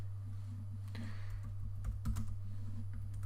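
Fingers type on a computer keyboard, a short burst of light clustered keystrokes near and fairly soft over a low steady electrical hum.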